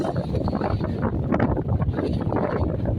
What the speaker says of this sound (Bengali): অতিরিক্ত বাতাস